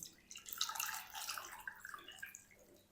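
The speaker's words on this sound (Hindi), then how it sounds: "चलें अब हम इसके अंदर शामिल करेंगे पानी।" Water poured into a vessel over raw chicken pieces during home cooking, a steady splashing trickle that carries on for a few seconds, close and moderately quiet, with no talk.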